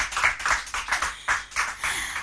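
A small studio audience on a French TV quiz show claps, a rhythmic run of close, distinct handclaps in an uneven pulse.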